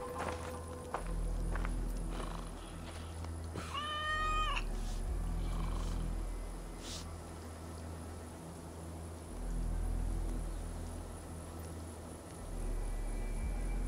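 A cat in Assassin's Creed Valhalla gives one clear, rising-and-falling meow around the middle, set against steady ambient game background and occasional soft footsteps.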